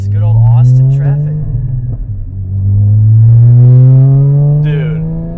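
A 2016 Porsche Cayman GT4 engine drones loudly and steadily, its deep tone rising and dipping briefly before climbing again as the car accelerates.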